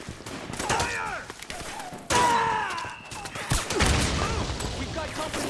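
Gunfire in the Metal Gear Solid 4 video game crackles in sharp, repeated bursts amid a chaotic battle, with loud impacts and shouting voices layered over the shots.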